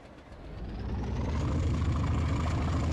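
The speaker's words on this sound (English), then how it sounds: "I heard an engine rev" A Class 37 diesel locomotive engine in a Roblox train game revs up steadily, its low droning rumble swelling over the first second and then holding loud and even.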